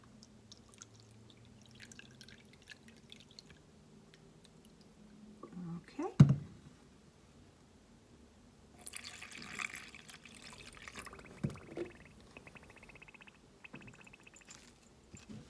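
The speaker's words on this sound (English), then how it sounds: "And I'm going to use a 1/2 cup of water." Half a cup of purified tap water being poured: a faint trickle with scattered drips and splashes, quiet and close, with soft murmuring and small handling noises around it.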